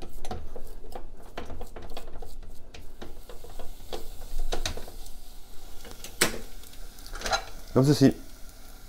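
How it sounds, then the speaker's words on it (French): Choux pastry dough stirred in a hot pan to dry it out, giving repeated scraping and knocking of a utensil against the pan over a soft sizzle, with a short spoken remark near the end. "on remue bien, on mélange afin de dessécher notre pâte"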